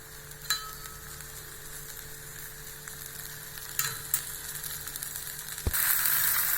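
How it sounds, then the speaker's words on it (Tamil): Ghee sizzles steadily as a dosa fries on a hot pan. The crackle is continuous, with a few sharp pops and a louder surge near the end. "இப்போ நம்ம நெய் ஊற்றிக்கலாங்க."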